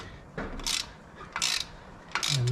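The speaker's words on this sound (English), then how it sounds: "So 19mm wrench and socket." A 19mm wrench and socket ratchet on a 2021 Jeep Wrangler during a MetalCloak install, giving three short, close bursts of clicking spaced about a second apart.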